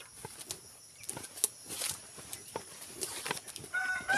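Heritage chickens cluck in scattered short bursts at moderate distance in a farm enclosure, soft clucks coming and going over light background noise with no talking.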